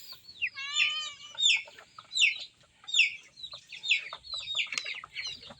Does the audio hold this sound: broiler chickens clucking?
yes